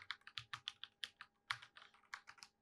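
Typing on a Havit Gamenote KB87 mechanical keyboard with red switches: quick, irregular clusters of light, close-up key clacks, fairly quiet, with no talking.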